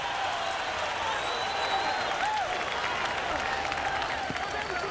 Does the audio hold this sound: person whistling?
no